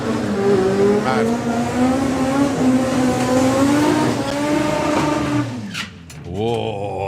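A four-cylinder drag racing car in competition at a drag strip howls loud and near as it accelerates, its engine pitch climbing steadily before cutting off, with a burst of other engine noise at the end.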